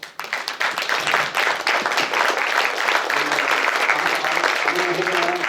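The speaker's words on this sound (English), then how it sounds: "If you can give them a round of applause." An audience at a Boise panel on the future of nuclear energy claps for the panelists. The applause is dense and sustained, with scattered voices mixed in.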